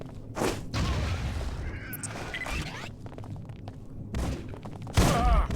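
Gunfire and a grenade blast in the Deus Ex: Invisible War video game, with several sharp bursts and booming impacts spread across the span, loud heavy hits near the start and end amid busy combat noise.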